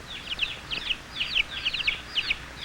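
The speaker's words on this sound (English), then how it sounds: "a mother hen call her baby chicks for choice bits of" A mother hen on a farm calling her chicks to food, a series of quick, repeated high chirping calls in short clusters, fairly close, over a soft background hiss.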